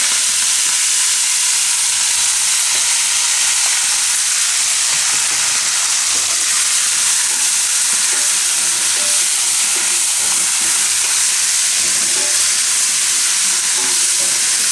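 Fenugreek leaves (methi) frying in oil with garlic give off a steady, loud, even sizzle and hiss that carries on unbroken throughout.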